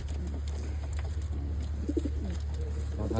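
Taiwan pigeons give soft, low cooing calls over a steady background hum, a few faint murmurs close by with no clear speech.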